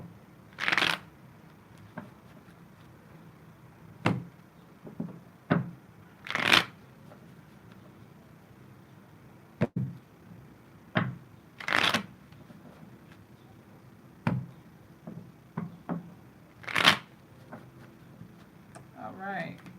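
Tarot cards are shuffled in a series of short riffling bursts, each a quick, close papery rush, separated by brief pauses and small taps.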